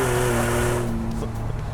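A 2016 Ford F150 EcoBoost truck with a MagnaFlow exhaust drives with a loud, mellow engine drone that fades slightly as it goes. It is heard up close and alone.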